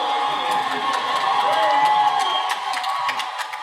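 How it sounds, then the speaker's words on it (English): A large Comic-Con crowd cheers, whoops and applauds the Star Wars: The Force Awakens panel, a loud sustained roar with sharp shouts and clapping rising over it. "give me a huge round of applause for the Star Wars The Force Awakens"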